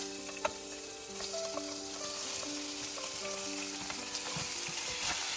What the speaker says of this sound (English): You can immediately hear the sizzling sound and smell the amazing aroma filling the kitchen.